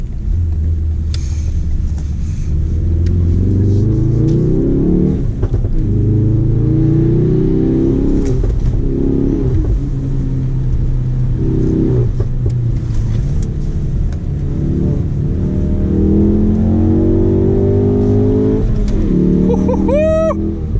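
A 2018 Ford Focus RS engine in track mode roars and revs continuously on a track, rising and dropping through gear changes, loud and close, with a brief squeal near the end.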